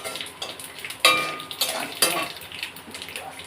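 Garam masala and panch phoron spices frying in a pan, with a sharp sizzle burst as they hit the oil followed by a metal spoon stirring and scraping against the pan, close and fairly loud, no talking.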